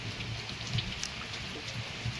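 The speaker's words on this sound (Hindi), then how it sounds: "बहुत तेज बारिश हो रही है" Heavy downpour falling steadily on a hillside home on a foggy morning, a dense continuous hiss of rain with scattered louder drops pattering on nearby surfaces, no voices.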